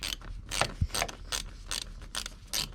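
A 7mm socket ratchet working the air intake pipe clamp on a 2014 Chevy Cruze, a run of quick clicking ratchet bursts in an even rhythm, close and fairly faint.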